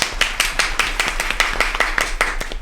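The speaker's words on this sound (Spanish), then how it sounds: "Un aplauso muy fuerte, por favor, para Mario Gambacorta." A studio audience at a radio program claps in a quick, fairly steady burst of hand claps, close and crisp, with no talking over it.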